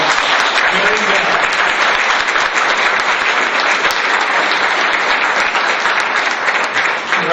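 Applause fills a town meeting of the Town of Loxahatchee Groves, a steady dense round of clapping from the gathered residents that holds at full strength throughout with a faint murmur underneath.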